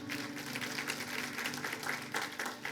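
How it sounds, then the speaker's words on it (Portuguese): A church congregation claps during a sermon, a faint, distant patter of many hands rising in small swells over a low steady hum. "Uma salva de palmas, Senhor Jesus, por isso."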